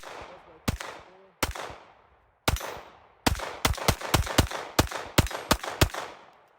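Pistol fire from a gun carried on an urban assault duty belt: three spaced, sharp, loud shots, then a rapid string of about ten cracks with short echoing tails, close by and with no voices.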